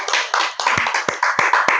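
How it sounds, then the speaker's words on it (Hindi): Small audience clapping at a Holi kavi sammelan poetry gathering, a short burst of close, uneven hand claps with no talk over them. "तालियां"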